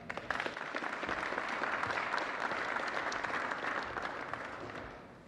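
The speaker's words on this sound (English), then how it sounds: "give them a round of applause" An audience applauds the Illinois State Police at a public safety enforcement announcement: steady, dense clapping that holds for several seconds and tapers off at the end.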